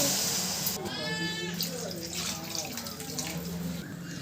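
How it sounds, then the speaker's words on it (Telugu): Water pours steadily into a pan of cooked vegetables for egg noodles, with a continuous splashing rush while a voice speaks over it. "ఇందులో వాటర్ని యాడ్ చేసుకుందాము"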